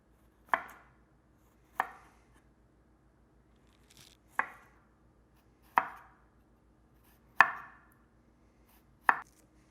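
Knife slicing garlic very thinly on a cutting board, six separate crisp chops spaced a second or more apart, close and clear in an otherwise quiet kitchen.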